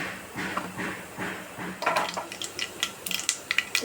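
Mustard, fenugreek and cumin seeds splutter in hot oil, starting quietly and building into a scatter of sharp, crackling pops close by in the second half.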